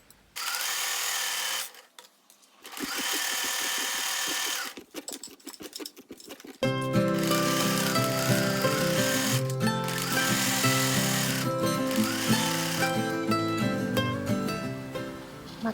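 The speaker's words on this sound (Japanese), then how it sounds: "股を縫おう。" A sewing machine stitches the crotch seam of a pair of pants, running in short bursts at first and then in a long steady whirring run, close and loud with no talking.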